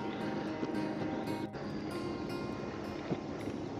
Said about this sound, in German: Dann kann ich gleich mal testen, wie gut das Rode Mikrofon mit Wind klarkommt.